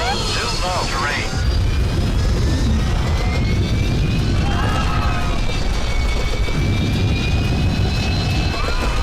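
Two low-flying airplanes roar overhead in an action film scene, a loud continuous engine rumble with rising whine, mixed with shouted voices and radio-like chatter.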